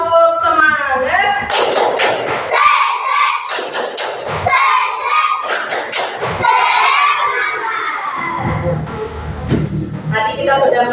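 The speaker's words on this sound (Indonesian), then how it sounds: "Sekali lagi tepuk semangat." A classroom of children in Indonesia performing a rhythmic group clap, loud sharp bursts of clapping in patterned beats alternating with a teacher's voice and children's shouts close by.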